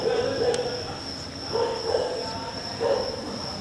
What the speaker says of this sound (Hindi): कुत्तों की आवाज़ है।